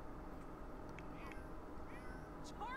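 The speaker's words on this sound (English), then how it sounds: "Why are you yelling at this cat, old lady?" Cat in The Sims 4 video game giving a couple of short meows near the end, over a steady low background hum of game sound.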